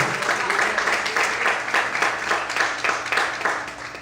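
Worshippers in a church clap together in a strong, even rhythm, the loud unified beats pulsing steadily with a murmur of crowd sound beneath.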